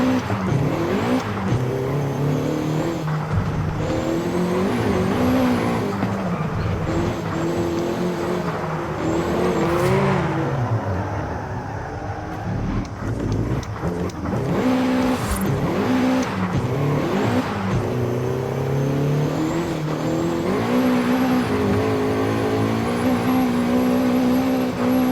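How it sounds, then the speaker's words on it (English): Honda Civic EP3 Type R with a VTEC engine, driven on a track, revs hard and climbs through rising gear sweeps, with tyre squeal from wheel spin. The engine note stays loud and close throughout. "VTEC and wheel spins"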